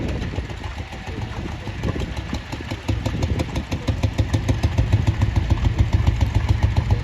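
A vintage tractor engine runs during a tractor ring parade at the Sheffield steam fair, a steady rhythmic chugging that grows slightly louder and closer, with no talk.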